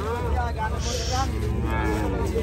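A black Sindhi-local cross cow lets out a long, deep moo close by at a cattle market, low and drawn out, with a faint voice in the background.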